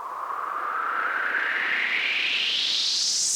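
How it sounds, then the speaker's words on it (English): Synth riser effect leading into a beat drop, a noisy sweep climbing steadily in pitch over about three seconds, smooth and even in loudness with no voices. "All we have for the effects is just a riser for the drop."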